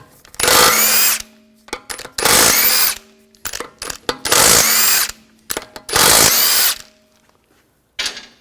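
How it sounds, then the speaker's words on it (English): Power tool with a 17mm socket spinning lug bolts off an Audi A4 wheel: four loud bursts of whirring, ratcheting drive, each about a second long, separated by short pauses with small clanks, then a brief fifth burst at the end. "Using a 17mm socket, take the lug bolts off."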